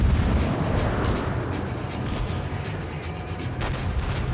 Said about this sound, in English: And the St. Louis is really wondering what the hell he just rolled into. As shell after shell screams down around him.